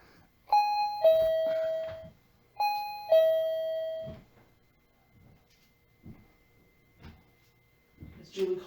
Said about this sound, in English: It kind of sounds like the tone before the pilot comes on.